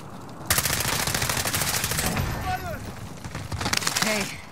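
Rapid automatic gunfire rattles loudly and continuously in a Call of Duty: Warzone Halloween match, bursts stretching across several seconds with short pauses, while players talk over the shooting.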